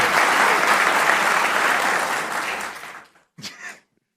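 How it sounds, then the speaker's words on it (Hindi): A studio audience at a news talk show applauds in a dense, steady burst that fades out after about three seconds, followed by a couple of brief scattered sounds before silence. "बार बेटा तालियां बजा के।"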